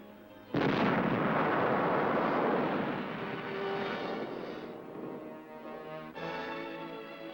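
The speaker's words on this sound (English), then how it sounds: "blast out shallows and rocks that might obstruct landing operations" An explosive blast clears shallows and shore rocks on a frigid polar coast. A sudden heavy boom swells into a long, roaring rumble that slowly fades over several seconds, with no voices.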